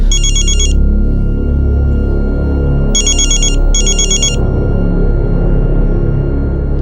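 A telephone rings in short electronic trilling bursts, one at the start and then two more in quick succession, loud and close, over a steady low background hum.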